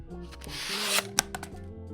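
A knife blade slices through a tube of taped paper resting on a table, giving a short dry scraping cut with a sharp crisp snap near the end, close and alone.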